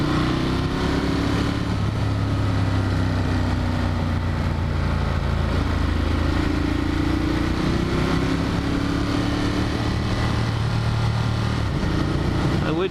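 A Ducati Monster 1200 motorcycle engine drones loud and close throughout a ride, its pitch rising and falling with shifts and throttle changes, with wind rushing alongside.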